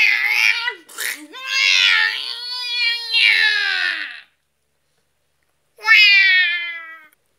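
A cat meows loudly and repeatedly in drawn-out, wavering cries, several in close succession, then a pause before one more long meow, close and alone without talk.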